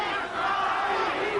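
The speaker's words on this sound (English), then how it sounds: "here's the crowd again chanting for Chacon" Boxing arena crowd at the 1983 Bobby Chacon vs. Cornelius Boza Edwards rematch chanting for Chacon, a loud, continuous mass of voices filling the hall.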